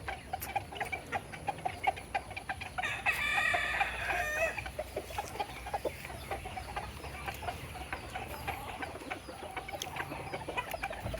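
Roosters cluck steadily nearby while one breaks into a loud crow partway through, with scattered calls from other birds around them.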